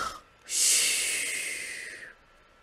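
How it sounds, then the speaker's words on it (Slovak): A wolf character in a Slovak audio telling of Little Red Riding Hood snores, rendered as one long, loud, breathy snorting inhale lasting well over a second, close and isolated against near silence. "A o chvíľku chrápal."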